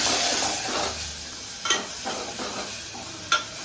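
Dal fry cooking in a pan, with a steady broad sizzle and intermittent scraping stirs, two sharper spoon knocks standing out, close and fairly quiet, no voices.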